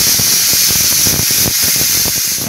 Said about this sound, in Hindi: अब मैंने प्रेशर कुकर चढ़ा दिया है